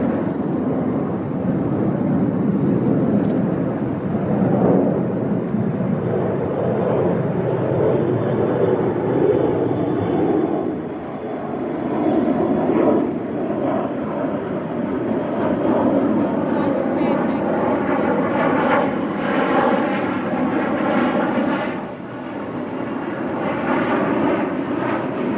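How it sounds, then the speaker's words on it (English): Propeller airplanes drone steadily overhead above a golf course during a women's tournament playoff, a loud continuous engine rumble that swells and fades across the whole stretch, with faint voices beneath. "The noise overhead from the airplanes"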